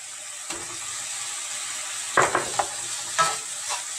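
Chopped cashew nuts frying in a pan for Odia manda pitha filling, a faint steady sizzle broken by several close scraping knocks of a spoon stirring against the pan, no talking.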